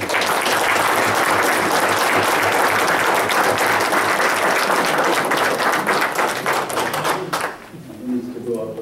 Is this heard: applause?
yes